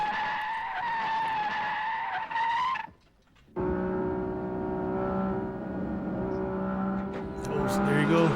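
A car drifts and skids in the Shutokou Battle video game, with sustained tonal tire squeal and engine whine, a brief drop near the middle, then a second long squealing slide.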